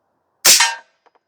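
A single loud, sharp report from an Airforce Condor .22 air rifle firing a slug through a Huben power regulator, with a short decaying tail and a few faint clicks afterward.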